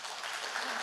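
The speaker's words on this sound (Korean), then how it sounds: "한번 박수." Brief burst of congregation applause during a Korean church morning service, a dense wash of clapping that stays even and fairly soft throughout.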